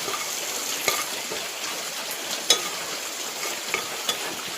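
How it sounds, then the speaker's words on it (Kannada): Ground cumin and black pepper frying with ginger and green chilli in a tempering, a faint, steady sizzle with a few soft clinks of a spoon against the pan. "ಶುಂಠಿ ಹಸಿಮೆಣಸು ಚೆನ್ನಾಗಿ ಫ್ರೈ ಆದಮೇಲೆ ಇದಕ್ಕೀಗ ಪುಡಿ ಮಾಡಿದ್ದ ಜೀರಿಗೆ ಕಾಳುಮೆಣಸನ್ನು"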